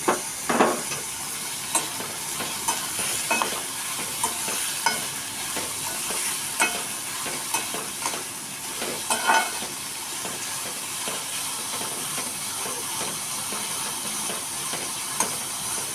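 Green beans with ginger-garlic paste sizzle steadily in a hot pan while a spoon stirs and scrapes, giving a continuous frying hiss punctuated by irregular clinks and scraping strokes, close and moderately loud.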